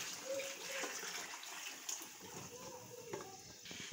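Water is poured into a simmering pot of aloo gosht curry along with its yakhni stock, a steady gushing and splashing wash that stays fairly loud and continuous throughout, with no talk over it.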